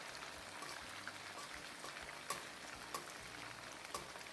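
Pork fries in oil with a faint, continuous sizzle dotted by scattered soft pops and crackles, heard alone at low volume.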